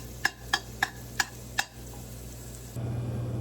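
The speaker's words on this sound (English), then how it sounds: "Just going to saute that for a couple minutes." Guanciale or pancetta sautés in a pan with a soft sizzle, punctuated by five sharp, evenly spaced metallic taps. A low steady hum comes in near the end.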